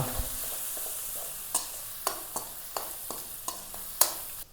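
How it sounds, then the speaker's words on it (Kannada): Tomatoes frying in a pan with turmeric for rasam give a soft, steady sizzle, punctuated by several sharp clinks and scrapes as a spoon stirs them, quiet and close with no talking. "ಟೊಮೊಟೊ ಒಂದು ಅರ್ಧ ಫ್ರೈ ಆಗಿದೆ, ಇದಕ್ಕೆ ಸ್ವಲ್ಪ ಅರಿಶಿನ ಹಾಕೋತಾ ಇದ್ದೀನಿ"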